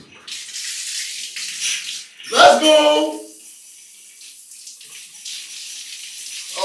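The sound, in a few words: shower water running for a cold shower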